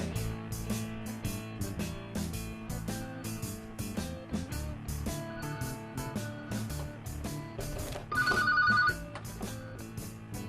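Music plays throughout, with a brief telephone bell ring cutting in near the end.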